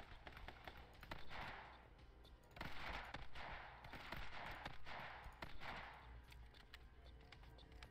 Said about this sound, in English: Oh my god, it's like a full auto sniper.